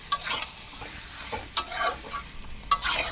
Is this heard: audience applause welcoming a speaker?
no